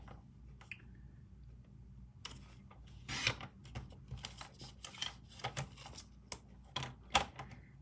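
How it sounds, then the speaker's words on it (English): A paper trimmer slices paper into squares in a quiet room, making a run of sharp, close clicks and cutting snaps at an uneven pace, with a louder crunch now and then. "I just decided to do it with my paper trimmer."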